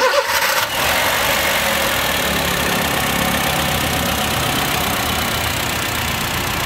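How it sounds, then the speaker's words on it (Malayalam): A used car's 1200cc four-cylinder petrol engine cranks briefly, catches and settles into a steady, loud, even idle heard close up, with no talk. "നമുക്ക് വണ്ടി ഒന്ന് സ്റ്റാർട്ട് ചെയ്ത് എഞ്ചിൻ സൗണ്ട് ഒന്ന് ശ്രദ്ധിക്കാം."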